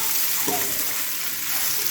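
A seema chintakaya and egg curry sizzles steadily in a pan as it is stirred, with a brief scrape of the spoon near the start. The sizzle stays loud and close throughout.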